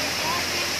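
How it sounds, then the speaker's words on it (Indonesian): The Wodu waterfall on Biak, Papua, gives off a constant, loud, broadband roar of falling water that stays steady and close throughout. "Kita sudah ada di air terjun."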